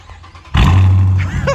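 A 2014 Dodge Charger R/T with straight-piped exhaust fires up into a sudden, very loud deep rev that holds as a heavy rumbling roar, close by after a quieter start.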